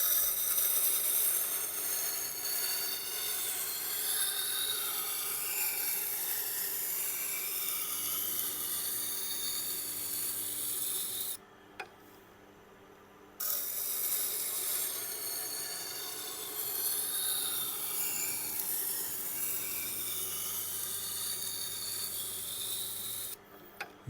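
A Tormek sharpening wheel being roughened gives a continuous gritty rasping with a rhythmic scraping sweep, broken by a brief pause of near silence midway before the grinding starts up again.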